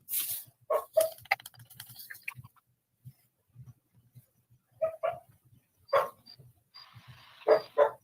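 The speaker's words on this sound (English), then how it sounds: "These dogs are the worst." A dog barks in scattered bursts, some sharp and some softer, with quiet gaps between them and a low rhythmic thumping underneath.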